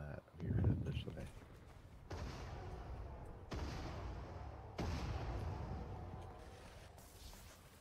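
Distant gunfire in an online shooter game, several separate bursts of muffled shots and booming reports spaced a couple of seconds apart, faint under a quiet background.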